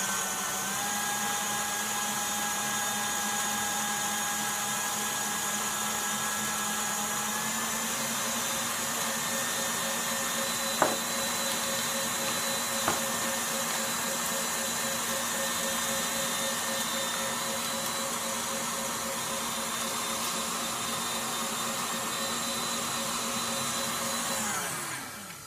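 Electric mixer whipping pavlova meringue with icing sugar on high speed, a steady loud motor whine with a constant pitch, running for around 25 seconds and winding down at the end, with no talk over it.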